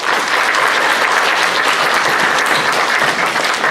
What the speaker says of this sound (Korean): 한번 우리 같이 박수로 환영합니다.